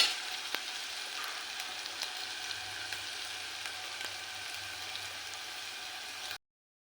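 Onion and garlic paste frying in oil while being stirred, a close, even crackling sizzle with light spoon scrapes throughout, cutting off abruptly at the end.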